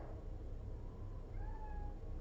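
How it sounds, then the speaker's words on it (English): Cat meowing outside a door, a single drawn-out, faint meow rising near the end over a steady low hum. "I hear the kitty cat outside the door"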